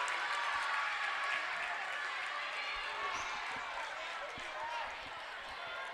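A packed gym crowd cheers and roars continuously at a high school district volleyball championship between Whitesville Trinity and Edmonson County, with squeaks and thumps from the court and a commentator talking over the noise.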